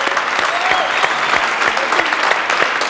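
A French television studio audience applauds a game-show contestant with steady, dense clapping that fills the room, some faint tonal sounds running under it, continuous for about three seconds.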